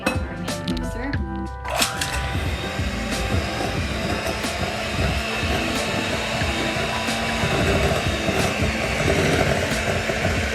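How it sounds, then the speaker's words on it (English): A hand mixer whirs steadily while beating white and brown sugar for cookies, a continuous buzzing drone with small clinks against the bowl, beginning after a clattering start and running under light talk. "So we have our hand mixer."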